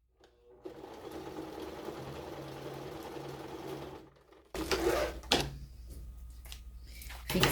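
A sewing machine stitching a thermal school lunch bag runs in a steady whirring burst for several seconds, then gives way to knocks and handling noises of the fabric and machine.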